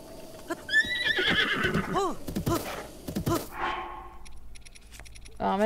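Horses in The Legend of Zelda: Breath of the Wild whinny and neigh several times over hoof clatter and game effects, with a person talking over them.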